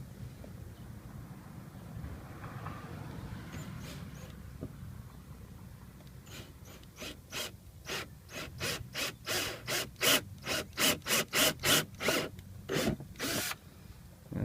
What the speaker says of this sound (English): Just using a 1/4 inch drill bit here.